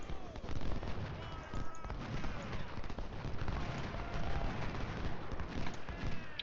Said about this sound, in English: I do want the artillery to move forward some. Let's get some shots on here.